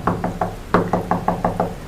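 Loud knocking on a wooden door: three sharp raps, a brief pause, then a steady run of six more. The blows are close, hard and evenly spaced, with no voices.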